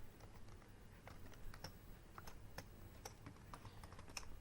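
Typing jQuery code on a computer keyboard, heard as a steady run of light, close key clicks with no one talking.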